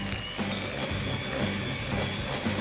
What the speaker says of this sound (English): Start with 300 grams of butter and whisk until fluffy.